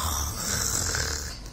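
A narrator imitates a sloth's yawn with a slow, breathy, drawn-out exhale that rasps like a soft snore, sustained and fairly close before trailing off.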